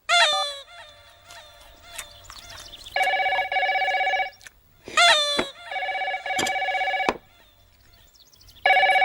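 A telephone rings in repeated long electronic bursts, loud and close, alternating with rooster crowing and hen clucking nearby.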